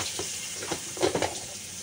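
Onion tipped into hot oil with black cumin and a dried red chilli in a pan for a jute-leaf curry, giving a steady broadband sizzle with a few louder crackling bursts midway, close by and without talk.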